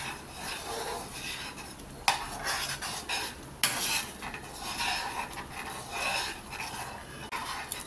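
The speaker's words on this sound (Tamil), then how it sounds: "அது உடனே உடனே கிண்டிடணுங்க அதை இல்லைன்னா கட்டி ஆகிடும்" A spoon stirs thick cashew chocolate fudge with ghee in a pan, scraping and sloshing with a few sharp metal clinks against the pan, moderately close.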